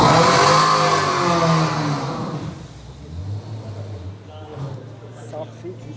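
Red Bull Formula 1 car at a racing circuit, a loud high-pitched engine scream sweeping past and fading away within a couple of seconds, leaving distant rumble and crowd noise behind.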